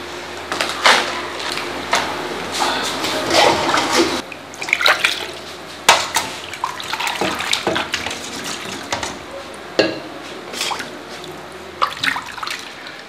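Mud-coated preserved eggs are scrubbed under a running kitchen tap, giving bursts of splashing water and wet rubbing in irregular pulses, with brief pauses between rinses.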